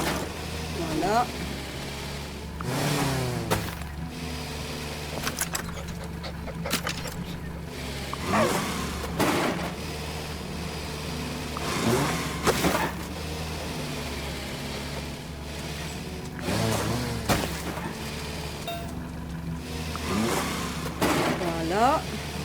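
A tractor engine in the farming video game Farm Together revs and surges in repeated bursts, mid-pitched and fairly loud, with a voice talking over it at times.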